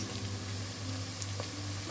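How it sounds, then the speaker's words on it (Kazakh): Quiet, gentle sizzle of onions frying slowly over low heat until reddish-golden, a soft steady crackle with a low hum underneath. "Пиязымыз әдемі қызыл болып қуырылды. Өте баяу қуырып аламыз."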